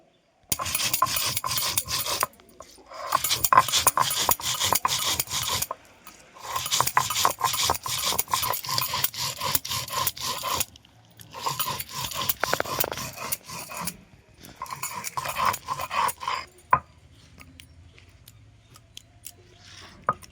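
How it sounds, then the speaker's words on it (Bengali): Soaked spices are ground into a paste with rough, rasping scraping strokes in several bursts separated by short pauses. The grinding is close and fairly loud, then trails off into quiet near the end. "মশলাটা আমি ভিজিয়েছিলাম সেটা আমি বেটে নেবো"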